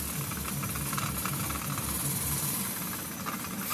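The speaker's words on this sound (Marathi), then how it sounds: "हे बघा कसं मस्त आता वाटण शिजत आलंय आणि त्याला तेल पण सुटलंय" Masala paste for mutton kheema cooks in hot oil, giving off a steady close hissing sizzle that stays fairly even throughout, without any voices.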